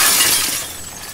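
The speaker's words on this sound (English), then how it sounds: "You better walk fast or else I'm gonna shower you in glass shards." Glass shattering as Abby's elbow smashes a pane in The Last of Us Part 2, a single loud, bright burst of breaking glass that rings and trails off alone.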